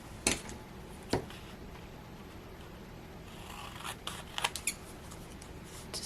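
Scissors cut a sheet of paper to size for a junk journal tab divider, leaving a few sharp close snips and then quieter scraping paper sounds in a quiet room.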